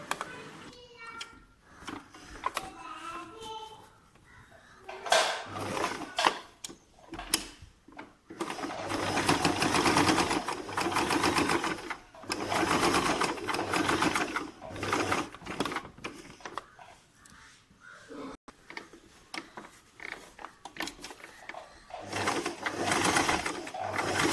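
Sewing machine stitching a kids' A-line frock, bursts of fast rhythmic whirring that start and stop repeatedly, close and clear, with short quiet pauses and some handling noise between runs.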